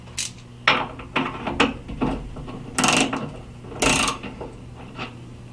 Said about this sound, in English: The first step in adjusting or replacing the Mov-a-bolt mechanism is to remove the striker bolt with your 5/8 socket.